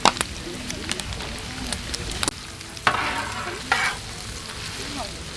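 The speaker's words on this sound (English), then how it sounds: "So I'm just going to throw in some diced onion today" Store-bought diced onion frying on a Blackstone griddle for cheesesteaks, a continuous close sizzle broken by sharp spatula scrapes and clicks at irregular intervals.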